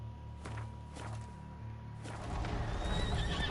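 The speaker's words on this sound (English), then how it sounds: "un caballo blanco, caballo negro" A horse in The Witcher 3 gives a sharp whinny, then hooves clop and thud in a short scuffling burst, heard close and alone for a few seconds.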